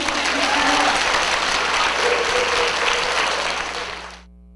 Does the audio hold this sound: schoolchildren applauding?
yes